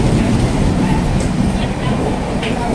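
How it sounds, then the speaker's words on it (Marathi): A large train rumbles past close by at a station, a steady loud roar of wheels and carriages with faint clatter throughout, no speech over it. "जाम मोठी ट्रेन आहे रे"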